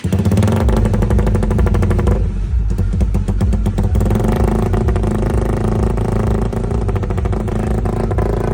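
A motorcycle engine idles loudly and steadily up close, with a rapid mechanical putter and occasional revs as it warms up.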